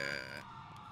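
Police car siren in the video game GTA Online, a brief, faint electronic wail heard for under a second.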